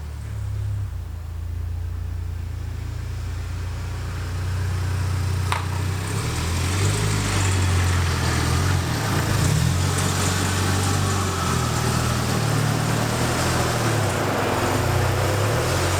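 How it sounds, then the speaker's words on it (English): A car engine runs steadily at low revs as the vehicle creeps slowly into a garage, a continuous rumbling drone with slight swells in pitch and loudness and no talk. "now we are going to pull the car into the garage"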